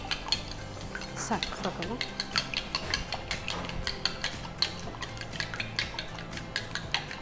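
Spoons clink and scrape against a bowl or pan while pepper powder and spices are stirred together for an egg butter garlic dish, with irregular close taps and scrapes under brief conversational speech.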